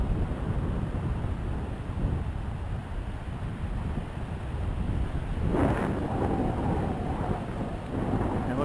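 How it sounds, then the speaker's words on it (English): Breezy morning wind by the water on a Mississippi barrier island, a steady broadband rush that buffets the microphone throughout, with a brief louder gust near the middle and no talk. "It's breezy this morning."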